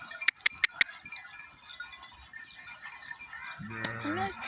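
Bell clinks ring out briefly, then a sheep gives a wavering bleat close by near the end.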